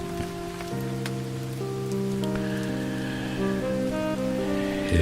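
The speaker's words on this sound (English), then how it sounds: "It was raining, and it was raining viciously." Heavy rain falls as a steady, even hiss beneath layered sustained musical tones throughout.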